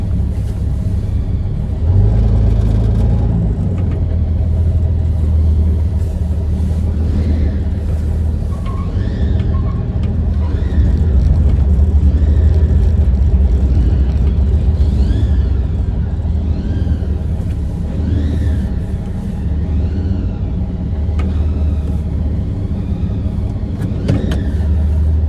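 A project car rumbles with a low, steady engine drone, idling and then moving slowly with occasional light revving. Faint voices and background activity sit underneath.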